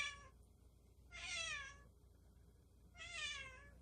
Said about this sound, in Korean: 아이고 이쁘게도 야옹거리네.